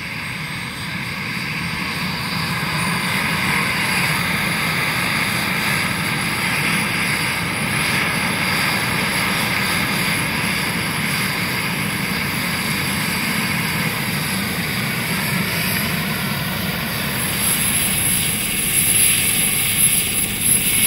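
Helicopter engines run at a polar ice-cap site, a continuous loud whining drone with a steady rumble that holds evenly for about twenty seconds, no voices heard.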